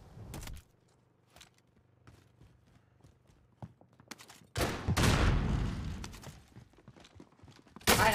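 Gunfire in Call of Duty: Warzone comes as sharp cracks and bursts: a short shot at the start, scattered clicks and movement, then a loud sustained burst and another sharp shot at the end.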